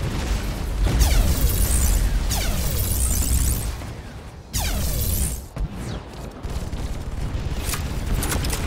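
Rapid Gatling cannon fire aimed at aircraft in a strategy video game, shown as dense, loud fusillades of bursts with booming impacts and explosions that continue across the whole stretch without pause.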